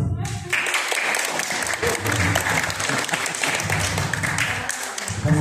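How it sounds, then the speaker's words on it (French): Clients at a weekend gathering of charity associations at Belle Dune break into dense, lively clapping close by, sustained for several seconds after a sharp start, with faint voices mixed in. "les clients ils m'applaudissent."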